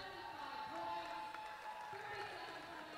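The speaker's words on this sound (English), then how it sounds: "The crowd getting riled up again. Applause on both sides." Crowd applauding and cheering at a women's roller derby game in an arena, a moderate, steady wash of clapping and crowd noise heard from a distance, with a few brief voices rising over it.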